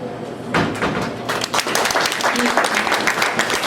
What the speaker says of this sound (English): You really don't have to clap for that.